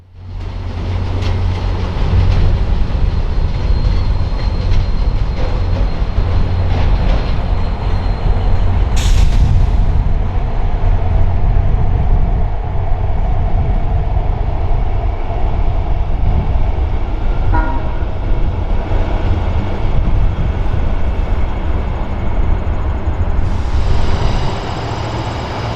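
An EXO commuter train rumbles loudly through Montreal's Gare Centrale, a steady heavy rolling roar with a sharp hiss of air brakes partway through and a horn-like tone near the end.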